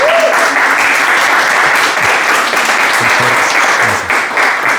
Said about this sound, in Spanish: Tal vez le damos un aplauso para entusiasmarlo.